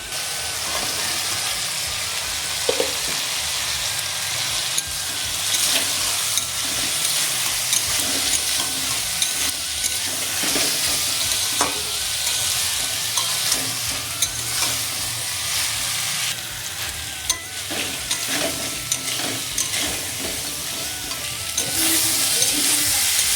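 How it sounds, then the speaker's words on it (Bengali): Sea crab with fried potatoes, ground cumin paste and coriander powder sautés in gravy in a pan, giving a loud, steady close sizzle and frying hiss with scraping stirs throughout. "কাঁকড়াটা কষানো হয়ে গেছে"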